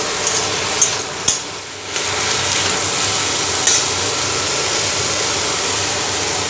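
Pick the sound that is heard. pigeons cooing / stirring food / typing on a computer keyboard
stirring food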